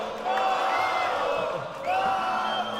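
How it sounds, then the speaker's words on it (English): Home crowd at the Red Bull Wololo El Reinado Grand Finals cheering and whooping for hometown player Tato, a loud continuous roar of voices with shouts rising above it. "for you to be here on home turf with all these people cheering your name, Tato"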